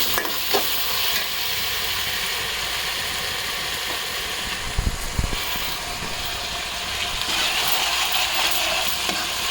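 Ground masala for crab curry fries in oil with a steady, close sizzle, broken now and then by soft scraping as it is stirred.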